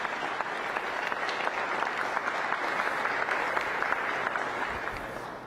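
Steady applause from an audience at a Korea–Peru MOU signing ceremony, after the heads of Korea Aerospace Industries and Peru's state aviation agency sign a KF-21 parts co-production memorandum; dense, even clapping throughout, easing slightly at the end.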